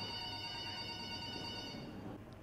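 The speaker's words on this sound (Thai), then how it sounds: "เรามีคนโทรศัพท์มานะครับ" A telephone rings during a church sermon, a faint steady electronic tone that holds for about two seconds and then stops, with no one talking over it.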